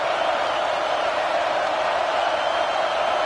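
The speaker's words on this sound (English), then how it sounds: "Tremendous crowd atmosphere now in the final minute of play" Continuous roar of a stadium crowd in a college football video game during the final minute of play, a steady wash of noise with no distinct cheers standing out.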